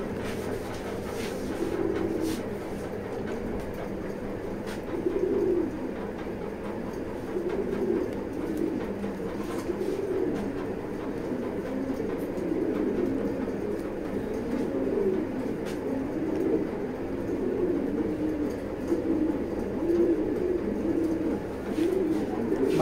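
Female pigeons coo steadily in a pigeon loft, a continuous layered chorus of soft, low murmuring coos from several birds close by, with no talk.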